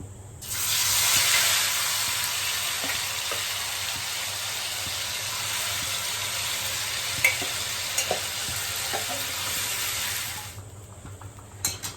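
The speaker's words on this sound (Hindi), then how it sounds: "तो यहाँ पे मैं डाल दूँगी कलौंजी, इसको भी मैं डालूंगी।" Nigella seeds (kalonji) sizzle and fry in a hot pan in a home kitchen while cooking Bengali kochur loti, a loud steady hiss that runs for about ten seconds with a few small pops and clinks, then cuts off.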